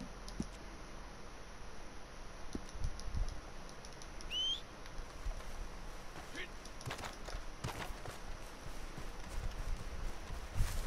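Horse hooves in Red Dead Redemption 2 make a faint, steady clopping under an outdoor ambience with occasional bird calls, while a player talks over the game.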